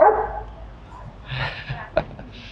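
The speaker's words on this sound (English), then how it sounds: "That's a friendly dog." A friendly dog barks on a winter street in Tirano, Northern Italy, giving a single sharp close bark amid soft murmuring and a person talking to it.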